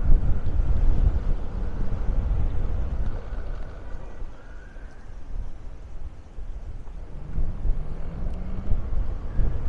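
Wind in Maspalomas, Gran Canaria rumbles and buffets continuously in a low, noisy roar, gusting against the microphone for several seconds with no speech.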